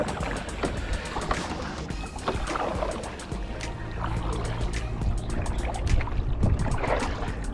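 A kayak paddled through water gives repeated close splashes and drips from the blade strokes, with gurgling water against the hull.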